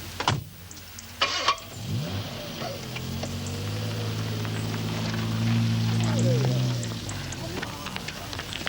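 A car engine idles and then pulls away nearby, a low steady rumble that builds and slowly fades, with a door clunk and brief voices at the start.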